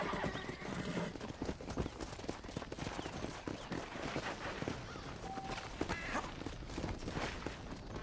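Horse hooves clip-clopping and a whinny in the Western game Red Dead Redemption, with the steady hoofbeats close and continuous, gunfire crackling in the background, and no speech.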